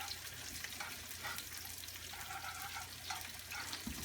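Onions fry in a pan while a spatula stirs them, making a soft, continuous sizzle with light scraping, quiet and close with no talking.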